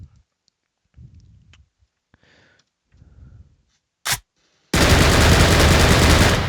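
Full-auto assault rifle gunfire in an Unreal Engine 4 game, a loud continuous rapid burst that starts abruptly after a few faint clicks and a single sharp crack.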